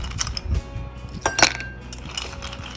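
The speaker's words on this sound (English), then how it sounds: "A handful of ice cubes goes in the glass." A handful of ice cubes clinks and rattles into a glass in a few quick, bright, close taps with a sharp peak midway, for a peach iced tea.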